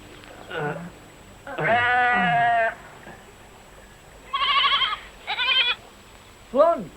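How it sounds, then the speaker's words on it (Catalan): A small goat bleats several times while being hauled up on a rope, with loud, wavering cries in separate bursts, the last one short and rising, and quiet talk in between. "lliga ben fort la cabreta. Ara la pujaré."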